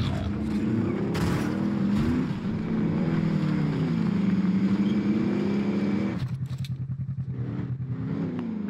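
A vehicle driven in Call of Duty: Modern Warfare, a loud continuous engine drone with shifting pitch as it revs and steadies, changing tone near the end, with no talking.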